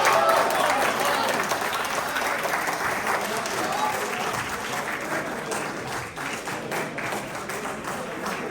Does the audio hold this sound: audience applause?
yes